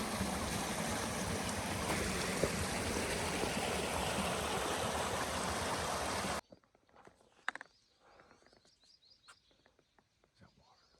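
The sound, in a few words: creek stream flowing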